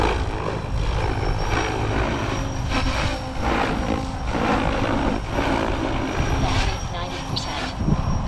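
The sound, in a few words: helicopter in flight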